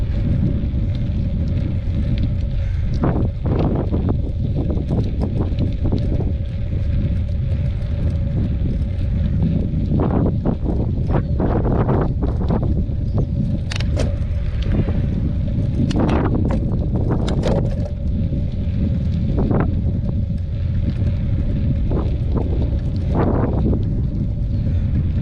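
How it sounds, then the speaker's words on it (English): Wind rushes over the microphone in a steady low roar while mountain biking at Lake Miramar, with scattered clicks and rattles from the ride. "It's a cool breeze."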